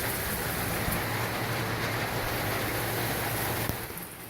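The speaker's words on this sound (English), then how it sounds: "It's raining like a mofo, as you can hear." Heavy rain falls at night as a steady, dense broadband hiss with no let-up, fading slightly at the very end.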